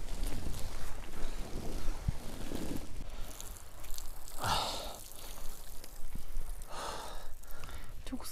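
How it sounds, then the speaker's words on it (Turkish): Warm wind gusts over a riverside family campsite, a steady broadband rush with breathy bursts buffeting the microphone, while people talk nearby. "Rüzgar bile sıcak esiyor."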